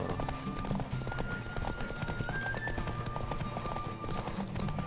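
Geralt's horse Roach gallops in The Witcher 3, a steady, loud clip-clop of hooves rolling on continuously over game music, with no talking.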